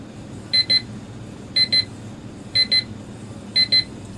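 An XREXS large digital clock's alarm beeps in four evenly spaced bursts, each a quick pair of sharp, high electronic chirps, clear and close against a quiet room.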